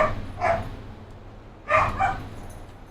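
Farm dogs bark in two short bursts about a second apart, moderately distant, over quiet low background rumble.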